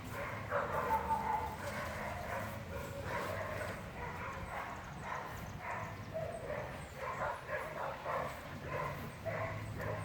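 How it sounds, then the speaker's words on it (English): Three neighbouring dogs barking and yipping in the distance outside a home garden, repeated irregular barks spread across the stretch, with a person talking faintly over them. "Sorry for all the background noise. Got new neighbors not too long ago, and she's got 3 dogs."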